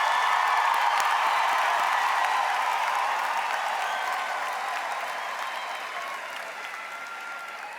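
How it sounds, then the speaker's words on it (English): Loud, dense applause from a large audience at a Faculty of Education graduation ceremony, sustained across the clip and slowly fading toward the end. "let us now give all of our graduates a last round of applause for their hard work and perseverance"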